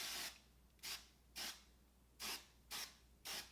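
A can of root touch-up hair spray fires six short, evenly spaced hissing bursts at close range, each spritz lasting about a third of a second with quiet pauses between.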